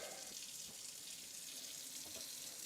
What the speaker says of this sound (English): Then we'll wash this rice.